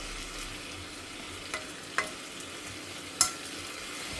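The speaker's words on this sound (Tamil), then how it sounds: "இது கொஞ்சமாக வதக்கினா போகிறோம், ரொம்ப குன்ற அளவுக்கு வதக்க வேண்டாம்." Food is sautéed in a pan while a spoon stirs it, giving a soft, steady sizzle with a few light clicks of the utensil against the pan.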